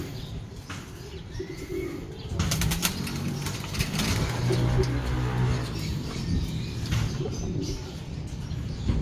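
Low, soft cooing of pigeons carries through steady ambient noise, joined by a few chirps and a brief flutter of wings partway through.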